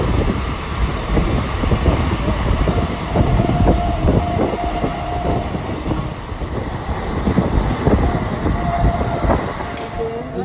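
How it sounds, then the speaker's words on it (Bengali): Inside a moving passenger train leaving Ranaghat station, a loud steady rumble with rhythmic clattering over the rail joints and a wind-like rush, no voices. "আমরা ট্রেনে উঠে গেছি"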